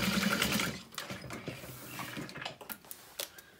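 A sewing machine top stitches a handbag close against its stabilizer, giving a close, rapid mechanical rattle in short bursts with brief pauses between runs and no voices.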